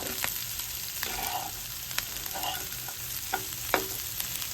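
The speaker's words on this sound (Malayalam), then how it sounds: "പിന്നെ ഇതിലേക്ക് നമുക്ക് നമ്മുടെ മുട്ടയും കൂടി മിക്സ് ചെയ്യാം." Egg is stirred into fried rice in a hot pan, a steady close sizzle broken by a few scraping spatula strokes, with no voices.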